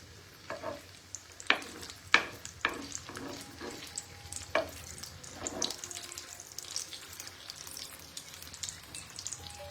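Paneer kofta balls fry in hot oil with a faint, bubbling sizzle, punctuated by a few sharp clicks and scrapes early on before settling into a quieter crackle.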